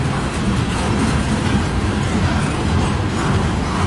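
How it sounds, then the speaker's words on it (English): A long southbound CN 385 freight train rolls past close by in Port Huron, Michigan, a steady loud rumble of wheels and cars with no break and no talk. "it's a long train"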